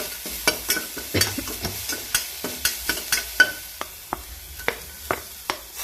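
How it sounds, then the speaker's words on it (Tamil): Coarsely ground pepper and cumin being sautéed for rasam: a spatula scrapes the pan in a steady rhythm of about fifteen strokes over a soft sizzle, loud and close, without speech. "குறகுறப்பாக அரைச்சி வச்சுருக்கிறத போட்டு நல்லா வதக்குங்க"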